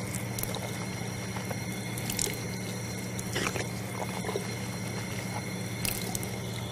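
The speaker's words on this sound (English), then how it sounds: "After that, washing the mouth three times." Water pours and splashes as the mouth is rinsed during wudhu ablution, soft trickles and short splashes recurring over a quiet, steady background with no talking.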